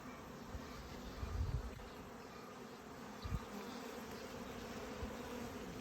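Honeybees buzz around hive splits in a faint, continuous drone, with a few close passes swelling briefly louder over the steady outdoor hum.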